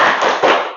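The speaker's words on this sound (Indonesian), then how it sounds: "Tepuk semangat." A classroom of pupils does the rhythmic 'tepuk semangat' spirit clap together, a loud, dense burst of hand claps lasting under a second, close and without talk.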